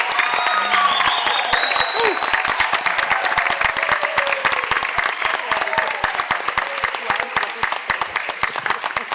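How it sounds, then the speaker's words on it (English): An audience at a school board meeting claps steadily for retiring staff, a dense, continuous round of applause with a few voices underneath. "So let's give a big round of applause for all of our retirees."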